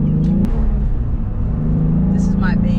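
The driver's first car, bought at 16, runs in eco mode with a deep, steady engine rumble that fills the clip. A faint voice comes in near the end.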